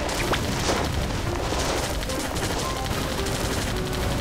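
Gunfire in the video game Zombie Panic in Wonderland, a dense continuous barrage of shots and booms over a loud, busy game soundtrack.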